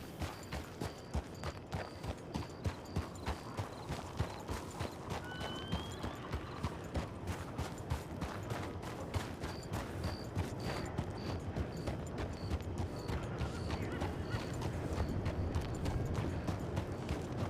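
Steady clip-clop of horse hooves in a video game trots along in a regular rhythm, mixed with a faint background hum and occasional high beeps.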